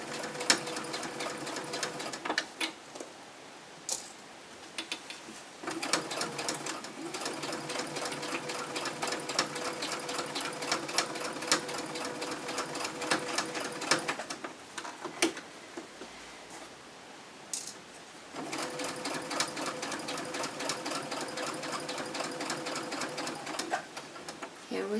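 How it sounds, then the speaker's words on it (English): A sewing machine stitching an exposed-core cloth pad with a PUL backer, steady rapid mechanical whirring runs with clear stops in between as the work is turned, heard close and alone. "lifting our foot, turning all the shape over, putting our foot down and sewing"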